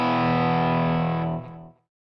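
A tuned electric guitar rings out through distortion and effects units, one sustained strummed chord that holds steadily before cutting off abruptly near the end, loud and alone.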